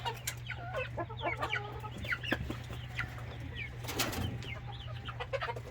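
Several chickens cluck and chirp busily nearby over a constant low hum, with overlapping calls and short peeps throughout.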